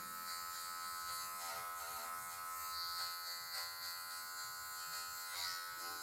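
Electric hair clippers buzz steadily at close range while trimming afro hair into a mohawk, a constant motor whine with slight shifts as the blade touches the hair.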